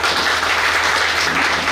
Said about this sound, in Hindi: अपनी ड्यूटी पर उनके लिए जोरदार तालियां